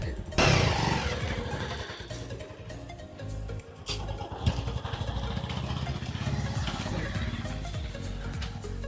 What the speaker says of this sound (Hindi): यस अब चलाएंगे बाइक